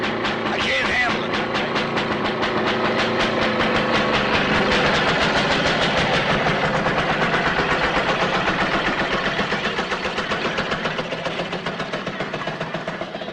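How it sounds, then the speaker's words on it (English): A train passing through a tunnel on a film location, its dense rhythmic clatter of wheels and engine rumble filling the scene loudly and continuously, slowly fading toward the end. "Trains come through the tunnel."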